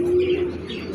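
A pigeon at a bustling pigeon market gives a single short, soft coo up close, with faint market background behind it.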